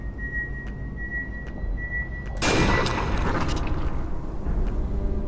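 Gunfire in the Aliens vs. Predator video game, played as a marine, breaks in partway through as a loud, sharp burst over a low rumbling background, followed by a dense, noisy wash of continued shooting and echo.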